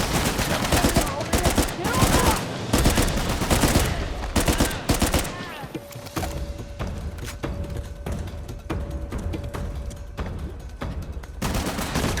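A gunfight in Uncharted: dense, loud overlapping automatic gunfire and impacts. A sustained mechanical tone runs underneath in the second half while shots keep cracking.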